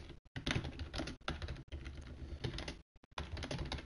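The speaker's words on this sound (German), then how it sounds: "So, ihr hört mich wie immer tippen, klar." Rapid, close clicking of fingers typing on a computer keyboard, quick bursts of keystrokes separated by short silent pauses, quiet and alone with no talking.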